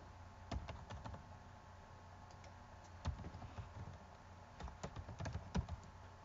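Quiet keystrokes on a computer keyboard come in short irregular bursts of clicks, with pauses between clusters, over a low steady room hum.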